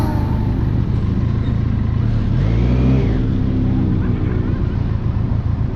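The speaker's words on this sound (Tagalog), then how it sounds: "Marami na mga motor." Many motorcycles pass on a road in Nueva Ecija, Philippines, with loud steady engine drone and one rising, revving pass in the middle, the traffic noise continuous and close.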